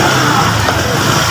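Street traffic at Divisoria market rumbles as a dense, constant wash of engine noise, with a mid-pitched motor droning nearby through the whole moment.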